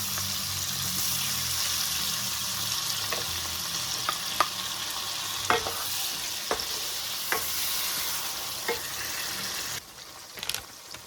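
Onions hit hot oil with a Scotch bonnet mix for a Ghanaian zongo stew, a continuous close sizzle punctuated by sharp utensil clinks and stirring scrapes.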